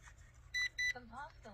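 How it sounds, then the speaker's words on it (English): Two short, bright electronic calibration beeps from a Ruko F11 Mini drone in quick succession, close and clear, followed by a brief murmur of voice over a low background hum. "Once you get that done, it's going to beep."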